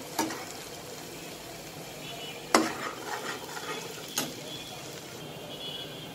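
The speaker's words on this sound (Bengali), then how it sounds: "সরষের তেলটা যখন এরকম উপরে উঠে যাবে তখন রসুনটা নাড়তে থাকবেন" Garlic fried in hot mustard oil for a sweet-sour mango pickle, stirred with a few sharp utensil scrapes against the pan over a steady low sizzle, with no voices.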